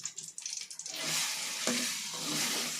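Chicken stirred with packet masala in hot oil for a spicy chicken thokku pickle; a few scattered scrapes give way to a dense, steady sizzle that fills the rest of the clip, close and continuous.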